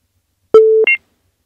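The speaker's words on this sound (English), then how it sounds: "You got a call beep." A call-waiting beep on a phone line: one clean, loud, steady tone followed at once by a short, higher double blip, set against silence.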